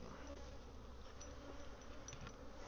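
A steady, even hum of honey bees at a hive on a wet, breezy day, fairly faint and continuous with no voices over it.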